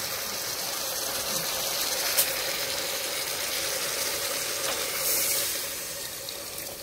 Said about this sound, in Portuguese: Agora eu vou colocar um pouco de água.